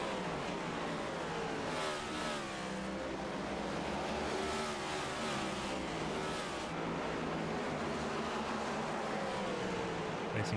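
HTL Cup Series race cars at Bakersfield roar continuously, engines revving and sweeping up and down in pitch as several cars pass and jostle for position, loud and sustained without speech.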